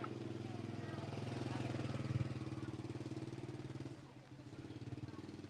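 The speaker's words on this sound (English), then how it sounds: "I've got a motorbike trying to get through, so I'll just shift out of the way." A motorbike engine putters steadily at close range, its low rumble holding through a busy market street as it edges past, dipping briefly near the end, with a voice speaking over it.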